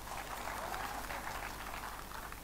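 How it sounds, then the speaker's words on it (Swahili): An audience applauding at a Kenyan political address by President Ruto, a dense, sustained wash of clapping from a large crowd. "Wapigie makofi hao watu."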